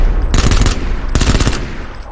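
Automatic gunfire in the battle royale game PUBG during a squad match, two dense rapid bursts of loud close shots with a ringing tail between them.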